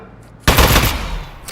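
An Aperture Science turret from a video game fires a sudden, loud, rapid burst of automatic gunfire up close. The burst lasts about a second and fades out slightly.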